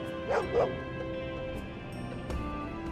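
A game dog in Lost Odyssey gives two quick yelping barks close by, then a long thin whimpering whine over steady background music.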